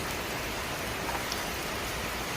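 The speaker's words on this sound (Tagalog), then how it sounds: "ulan na umaga" Heavy steady rain falls in a constant hiss, dense and even throughout, with no voices, in a rural Philippine setting.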